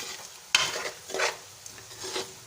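Malai chicken kofta gravy is stirred in a pan, with three or four scraping sweeps of the spoon over a soft, low sizzle, close and unaccompanied by talk.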